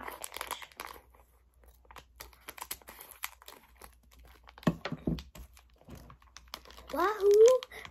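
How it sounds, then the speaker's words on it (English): Crinkling and crunching of packaging material in short bursts, with quiet rustles between, ending with an excited voice. "Now let's really open the package."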